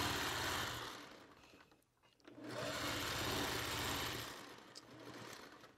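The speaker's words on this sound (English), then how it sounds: "I was sewing another skinny strip." A sewing machine stitches a skinny fabric strip in two quick, buzzing runs separated by a brief pause, with a fast, even mechanical chatter.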